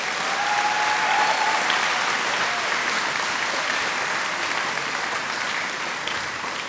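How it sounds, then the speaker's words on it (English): Audience applause for Year 6 students graduating in 2020, a steady sustained roar of many hands clapping throughout, with a faint tone briefly audible early on. "Let's give our Year 6 students of 2020 one round of applause"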